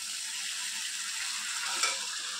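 Mutton mince tipped into a pan of fried spices, hissing and sizzling steadily with a faint stir partway through.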